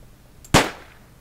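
A single sharp gunshot fires in the stealth video game Gunpoint, one loud close crack that tails off quickly, with no talk around it.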